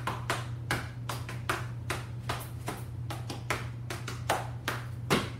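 A clogging dancer in an intermediate routine claps and stomps in a steady rhythm, producing sharp, close percussive hits at regular intervals over a constant low electrical hum.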